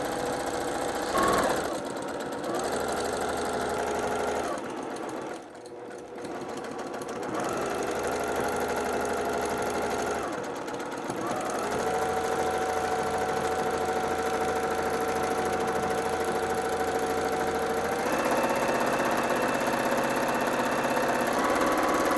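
A sewing machine running during free-motion machine quilting, a fast steady mechanical whir and hum that briefly stops twice and then settles into a faster, smoother run, close and alone.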